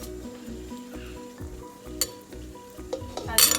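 Chopped onion and vegetables frying with masala in a pot for a village-style fish curry, a close, steady sizzle with stirring scrapes throughout and a brief metallic clink near the end.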